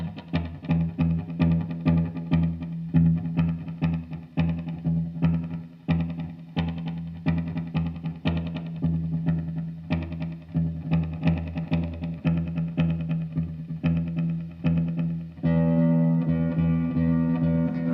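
Electric guitar fed through an Evans Nova 400 tape echo unit, played continuously for about eighteen seconds with strong, dense repeats and a distorted, effected tone, ending on a sustained ringing chord.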